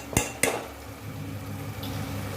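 Ginger-garlic paste masala roasting in a pan, with two sharp metallic clanks of a spoon against the pan early on, followed by a low, steady sizzle and soft stirring scrapes.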